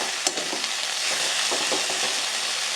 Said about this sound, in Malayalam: കുറച്ച് മുളക് പൊടിയും കൂടെ തൂക്കിയിട്ട് ജസ്റ്റ് ഒന്ന് ഇളക്കി